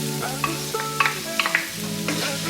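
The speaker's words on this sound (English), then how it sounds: "we are coming to start to fry our veggies. So I'm first putting my carrot because it's very hard. And then my green peas." Carrots and green peas frying in a pan, a soft sizzle under a hum with several quick spatula clicks and scrapes, close and brief, no voices.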